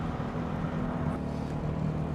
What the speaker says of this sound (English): It's got such a distinctive personality, that flat four, that boxer engine.